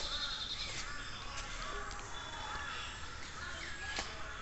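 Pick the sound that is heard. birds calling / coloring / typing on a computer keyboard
birds calling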